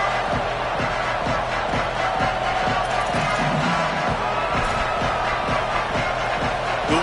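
A stadium crowd in a college football video game, Michigan against Indiana, roars continuously with a rhythmic pulsing chant beneath the sustained cheering, loud and dense throughout.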